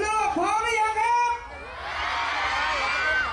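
Concert crowd in Phitsanulok, Thailand, cheering and shouting loudly, a dense roar of voices with a few higher yells rising over it, then a sustained broad wash of cheering.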